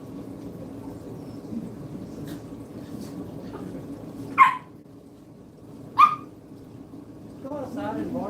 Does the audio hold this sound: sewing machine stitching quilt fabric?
no